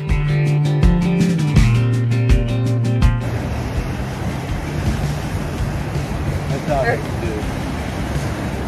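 Choppy water and gusting wind on Crater Lake in cold, rainy weather, a dense steady wash of broadband noise; the first few seconds carry music-like tones before the rough, continuous water and wind noise takes over.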